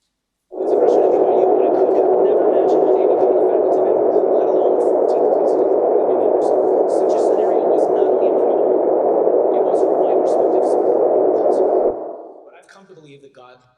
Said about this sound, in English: substantial background noise